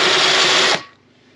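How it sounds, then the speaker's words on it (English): A power drill bores through a kitchen cabinet countertop with a loud, steady whir close by, then stops abruptly and leaves a faint room hum. "I just gotta drill a little bit more"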